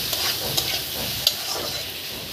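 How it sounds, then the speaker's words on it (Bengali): Chopped onions frying and stirred in hot oil, a steady broad sizzle with a few sharper crackles and spatters, close and alone with no talk, while onions fry for an egg-and-onion dish. "দিয়ে পেঁয়াজগুলোকে ভালো করে বাদামি কালার করে ভেজে নেব।"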